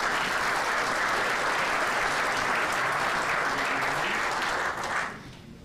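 Sustained applause from an audience at the French Badminton Federation's general assembly, a dense, steady clatter of many hands that fades out at the end.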